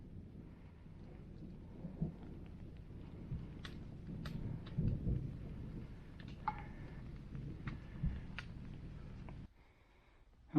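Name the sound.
thunder and rain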